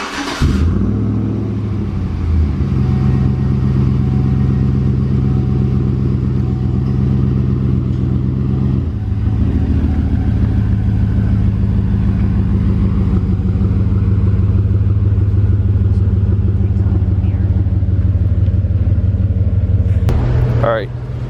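A 2011 Chevrolet Silverado pickup engine runs through a Stainless Works cat-back exhaust, a steady deep rumbling idle held close and loud for about twenty seconds, with a brief blip of revs partway through and another near the end.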